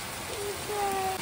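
Rain pours outside a shop onto a muddy lane, a steady broadband hiss with faint tonal streaks, fairly close and continuous.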